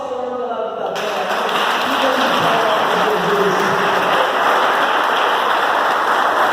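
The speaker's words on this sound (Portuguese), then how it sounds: "Aplauda o Senhor pela vida dela." Congregation applauding together inside a church during a worship service, a dense, steady wash of clapping that swells after the first second and continues loudly throughout.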